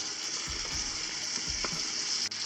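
Garlic sizzling in a pan on an induction hob set to level 8 while a homemade cassoulet with duck confit is cooked, a steady close frying hiss with a few soft stirring bumps and no talk.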